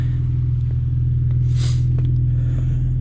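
A Nissan 370Z idles while warming up after sitting unused, a deep, steady rumbling engine drone with a pulsing low hum, close and constant, with a faint whoosh partway through.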